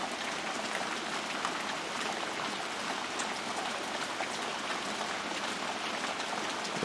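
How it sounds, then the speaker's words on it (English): Heavy rain in a steady downpour, a dense continuous hiss of drops drumming on surfaces, unbroken for the whole stretch with no voices. "It is raining."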